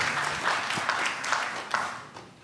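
A crowd applauds in a dense, steady wash of clapping that gradually tapers off, with faint voices underneath.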